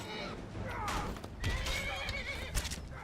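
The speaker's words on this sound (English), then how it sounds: "they're bandits and they're attacking my horse" A horse in Skyrim neighs and whinnies loudly while bandits attack it, with hoof clip-clop and fighting noise mixed in amid brief talk.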